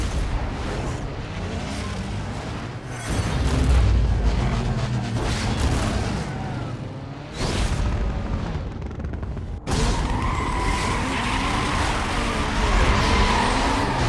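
Racing cars in the video game Need for Speed Most Wanted roar continuously at close range, with loud engine drone, shifting revs and abrupt changes in the sound, and no talk over it.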